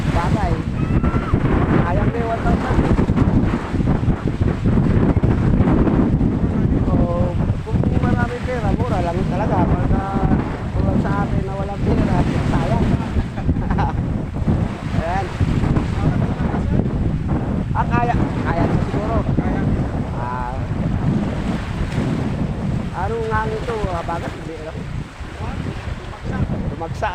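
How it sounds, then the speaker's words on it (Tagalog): Strong wind buffets the microphone at sea aboard a small fishing boat heading out off Burias Island, with steady roaring gusts and wave wash throughout and voices talking intermittently beneath the noise. "Kaya lang, medyo malakas ang hangin pero kaya naman ang bangka."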